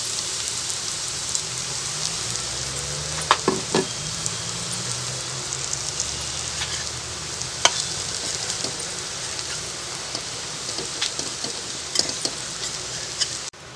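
Crumbled bhakri chivda is sautéed and stirred in a pan with coriander, giving a steady close sizzle broken by scattered scraping clicks of the spoon against the metal, with no voices.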